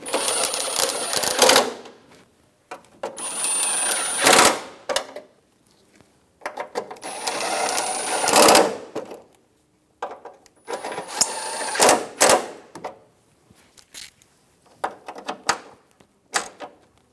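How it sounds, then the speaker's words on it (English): Headlight assembly bolts on a 1988-1999 GMC K1500 snugged down with a socket tool, heard as several separate bursts of ratcheting clicks and clatter separated by short pauses, close and fairly loud, with no talking. "Snug down all of the bolts."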